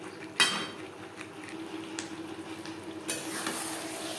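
Fried potatoes and chicken being stir-fried together in a pan for an aloo chicken curry: a quiet, steady low sizzle with a few utensil scrapes and knocks against the pan.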